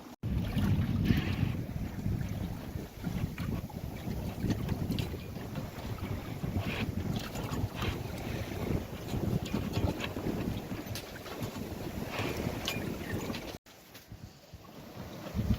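A sailboat under way off North Queensland on a fine afternoon, with steady wind buffeting the microphone and broadband rushing water and hull noise running continuously throughout, briefly dipping near the end.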